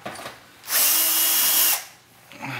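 Power drill backing screws out of a GE glass-top electric range under repair: one loud, steady whine lasting about a second, close by, with quieter handling noise before and after and no talk.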